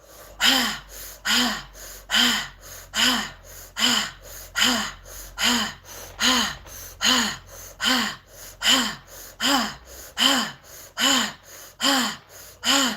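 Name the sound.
deep breathing exercise to let go of pain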